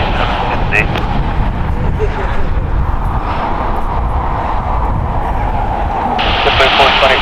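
A KLM Boeing airliner, flight 601 from Amsterdam, arrives on the north side, its jet engine rumble a steady broad roar that brightens with a hiss toward the end; radio chatter and talk sound over it.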